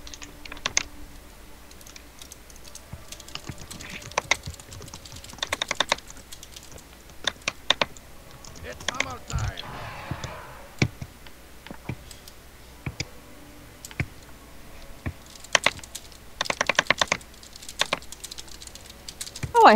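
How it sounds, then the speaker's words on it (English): Bursts of rapid, vigorous typing on a computer keyboard, dense clicking clusters separated by short pauses, close and fairly loud. "That is some furious typing I hear."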